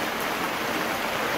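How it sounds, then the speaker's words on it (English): Steady rain falls outside an open, propped door of a garage workspace, a dense, even hiss with no distinct drops, moderately loud and unbroken, with no voices. "It's raining."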